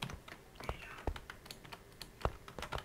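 Keys clack on a computer keyboard in quick, irregular taps, close and fairly faint, with game sounds and a voice murmuring underneath.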